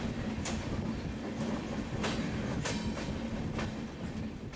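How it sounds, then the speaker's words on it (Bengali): Steady rumble of the Pratham Swatantrata Sangram Express heard from onboard, running between Kolkata and Naihati, with a continuous low roar and periodic clickety-clack wheel beats over rail joints, no talking. "আজকে আমরা অনবোর্ড আছি কলকাতা থেকে ঝাঁসি প্রথম স্বতন্ত্রতা সংগ্রাম এক্সপ্রেসে।"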